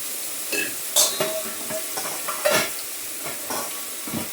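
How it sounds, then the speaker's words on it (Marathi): Onion and tomato sautéing in a pan for a matar paneer masala, with a steady sizzle broken by several scraping stirs of a spoon against the pan, heard close up. "आता कांदा टमाटा थोडंसं परतवून घेते."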